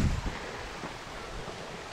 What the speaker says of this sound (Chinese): 看山间的瀑布好高啊。